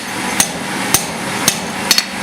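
Hammer blows ring out on a hot rivet while blacksmith tongs are forged: five sharp, bright metallic strikes with a steady, unhurried rhythm, the last two close together, heard near and loud over a low workshop hum.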